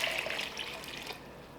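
About six cups of water poured from a cup into a pot of tomatoes, potatoes and lentils for lentil soup, a soft splashing pour that fades out after about a second, with no talking.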